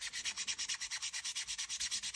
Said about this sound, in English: I've just got some 3M fine sanding sponge here.